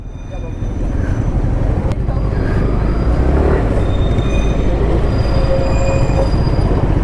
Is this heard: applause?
no